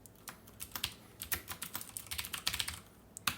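Computer keyboard typing while someone fills in a form, tabbing between fields: a string of crisp, close key clicks in irregular bursts, with a sharper keystroke near the end and no voices.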